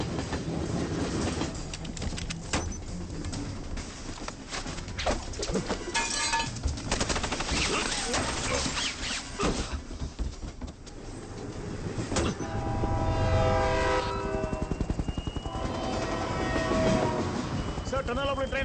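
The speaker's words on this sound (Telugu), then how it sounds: "సార్ టనల్ లోపల ట్రైన్ ఎంటర్ అయింది." A train rushing into a tunnel in an action movie climax, a loud continuous rumble and clatter layered with rapid bursts like gunfire and dramatic score, with voices over it.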